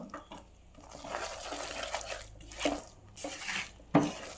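Mysore Pak mixture with separated ghee poured into a tray, a soft, close liquid pour with a few brief splats and sharper knocks toward the end, no talking.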